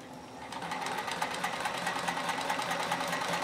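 A Kenmore 158.1040 portable sewing machine runs a steady stitch, its motor whirring with a quick repetitive needle clatter that holds an even rhythm close by, with no talking.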